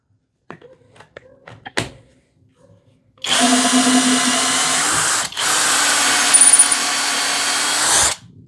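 A Hanabi LJ-2023 cordless drill with 140 Nm of torque runs close and loud at low speed, driving a drill bit in two sustained whirring bursts split by a brief catch. Light taps and handling knocks come first.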